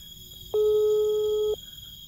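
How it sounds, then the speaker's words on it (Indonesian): An unanswered outgoing phone call: a single steady ringback tone of about one second sounds clearly over a low background hum, with no voices. "Saya mau telepon dulu Kang Ian."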